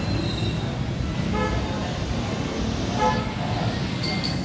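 Short bursts of a Toyota Yaris horn, just rewired, honk a few times over steady background rumble, with faint voices nearby.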